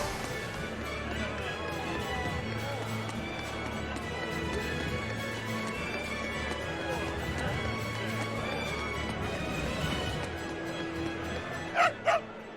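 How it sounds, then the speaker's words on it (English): Dog in the video game Tales of Berseria, with short yips and barks rising near the end over a busy bed of game music and talk. "What's this dog saying?"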